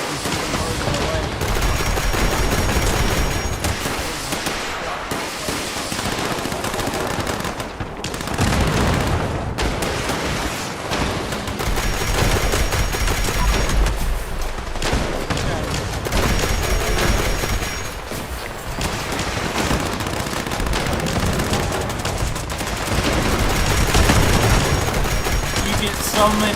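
Sustained gunfire while shooting enemies in Fallout 76, dense and loud throughout, with rapid shots layered over booming impacts and busy game noise.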